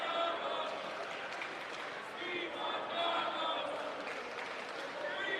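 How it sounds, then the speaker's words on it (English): Basketball arena crowd chanting loudly and steadily for a player late in a game between the Vancouver Volcanoes and Salem Capitals, a dense roar of voices with rhythmic surges throughout. "Crowd chanting, we want Domo Lawrence"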